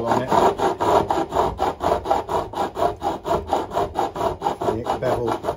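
A file rasps in steady back-and-forth strokes across the fret ends of a Washburn acoustic guitar, beveling them at an angle, loud and rhythmic, about a dozen even passes with no voices.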